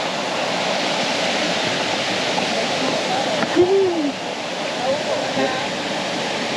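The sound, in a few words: tall waterfall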